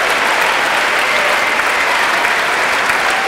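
A poetry slam audience applauds a poet, a loud, continuous roar of many hands clapping close by, sustained and even throughout.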